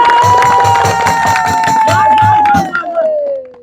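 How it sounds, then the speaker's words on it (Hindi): Children at a village street show put on by a travelling madari clap and cheer in a rhythmic burst, with shouting and a steady tone running through, close and loud before fading near the end. "बच्चों ताली बजा दो एक फेरी"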